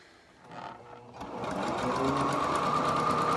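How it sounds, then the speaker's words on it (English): Sewing machine stitching across a wide seam on a halyard face mask, starting after about a second and running steadily loud to the end, with a faint earlier burst of motor whir. "And sew that across."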